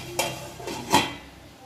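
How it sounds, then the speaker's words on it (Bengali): A lid goes onto a kadai of boiling water holding taro (ghot kochu). Three quick, faint metallic clanks and knocks sound close by. "কচুটা সিদ্ধ করার জন্য আমি ঢেকে দিচ্ছি"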